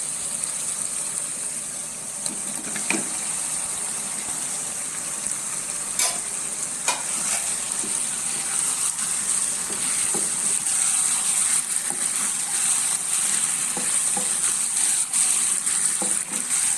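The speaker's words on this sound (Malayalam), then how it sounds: "വറുത്ത് വെച്ചിരിക്കുന്ന ചിക്കൻ ഇട്ട് കൊടുക്കാം" Fried chicken pieces go into a pan of hot oil and are stirred, giving a steady, fairly loud sizzle with scattered scraping and clinking from the utensil throughout.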